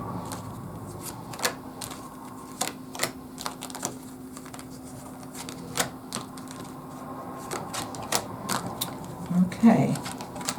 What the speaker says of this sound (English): I am going to go ahead and pull some cards and talk about it.